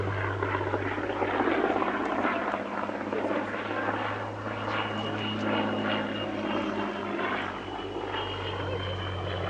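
Vintage warbird N3200, a Dunkirk veteran, flying a display at its Duxford home base, with a steady droning piston-engine hum and rushing airflow that swells and eases slightly as the aircraft moves.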